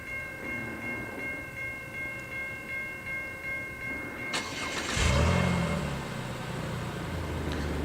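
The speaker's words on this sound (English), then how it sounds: "And there goes the train, just fading away." A train passes outdoors in Minneapolis in winter: a steady hum with tonal lines, then a sudden loud broadband rush and a low rumble as the cars go by and the sound begins to fade into the distance.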